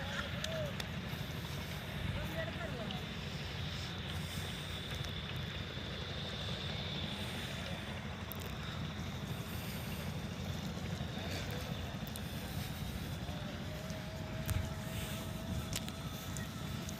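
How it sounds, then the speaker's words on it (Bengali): A passenger-laden boat approaches on the Jamuna river near a sandbar, its engine a steady low drone throughout, mixed with wind noise buffeting the microphone in open outdoor air. "যাত্রী বোঝায় একটা নৌকা আসছে।"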